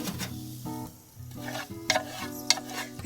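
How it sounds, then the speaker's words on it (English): Onions and butter sizzle in a pan on a wood stove, a soft steady frying hiss with a couple of sharp clinks of a utensil, heard under a tonal background hum and without speech. "I am going to put the onions and butter."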